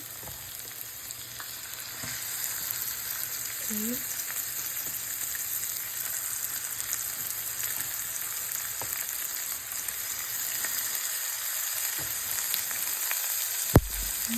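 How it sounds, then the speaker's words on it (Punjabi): Onion frying in a pan for stuffed bitter gourd, a steady close sizzle that hisses on without a break, with a few soft stirring scrapes and no talking. "ਮੈਂ ਇਹਦੇ ਵਿੱਚ ਪਾਉਣ ਲੱਗੀ ਹਾਂ onion okay"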